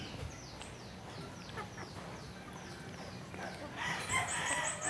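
Chickens are fed cracked corn, and a flock clucks and chatters at a moderate distance with overlapping calls and soft pecking amid low background noise.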